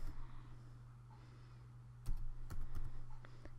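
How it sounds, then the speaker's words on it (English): Keystrokes on a computer keyboard: a brief quiet, then a quick burst of crisp, close clicks as a short word is typed. "I'll type over here Android"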